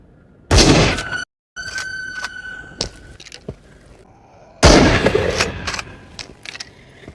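Gunfire in the VR shooter Into the Radius, inside a factory: two loud, heavy bursts of shots, with sharper single cracks and clatter scattered between them and no voices.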